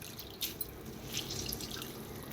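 Water drips and trickles as soaked, grated leftover chapati is squeezed out by hand, a faint, close, wet patter with a few distinct drops.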